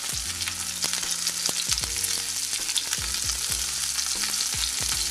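Mushrooms frying in a hot pan, a steady loud sizzle with repeated clanks and scrapes of a utensil stirring, close and continuous with no talk.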